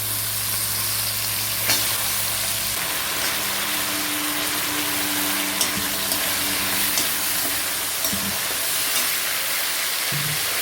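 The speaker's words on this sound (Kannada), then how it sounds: "ಒಂದು 5 ನಿಮಿಷ ಎಣ್ಣೆಲಿ ಫ್ರೈ ಮಾಡ್ಕೊಳ್ಳಿ ಚೆನ್ನಾಗಿ." Brinjal frying in oil with browned onions, a dense, steady sizzle filling the pan, with occasional soft knocks of stirring and low hum underneath.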